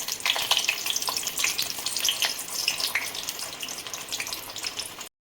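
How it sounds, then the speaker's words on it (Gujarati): Stuffed baby brinjals fry in hot oil, a bright crackling sizzle with sputtering bursts that is close and fairly loud, ending abruptly after about five seconds. "તેલ ગરમ થઈ ગયું છે એમાં રવૈયા આપણે તળી લઈશું"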